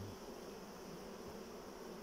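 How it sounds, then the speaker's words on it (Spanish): A relocated honeybee swarm packed into its hive, giving a steady, dense buzzing drone that holds evenly throughout, close and fairly quiet, with no talking over it. "Está muy lleno de abejas, ya falta para más."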